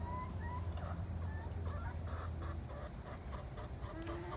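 Backyard hens, including Easter egger hens, cluck softly and repeatedly at close range, with short pitched calls over a steady low background hum.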